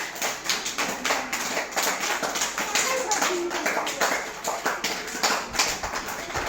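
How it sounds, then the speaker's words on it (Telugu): First-grade schoolchildren in a classroom game clap together in a quick, continuous burst of many hands, loud and close, with voices mixed in underneath. "క్లాప్స్ కొట్టండి విష్ణుకు."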